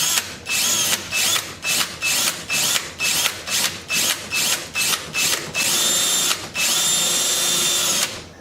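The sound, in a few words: drill driving self-tapping screws into Polaris Ranger part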